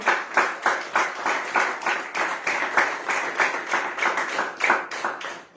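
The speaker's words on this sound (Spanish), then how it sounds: "dale un aplauso a ese poderoso protector, a ese cuidador" A church congregation claps together in a steady, rhythmic beat, the pulses close and even throughout, with no talking over them.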